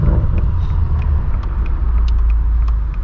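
A BMW M8 Competition with roughly 800 horsepower cruises along, its exhaust giving a loud, steady low rumble heard from inside the car, with no voices over it.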